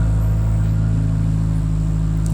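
A V12-swapped C8 Corvette engine holds a loud, steady rev with a deep low rumble close by, with no speech.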